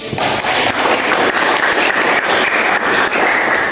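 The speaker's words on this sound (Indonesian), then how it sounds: "Tepuk tangan untuk Rafid" A classroom of students clapping for a classmate, a loud, close burst of many hands with a rhythmic, pulsing beat, continuous throughout with no voices standing out.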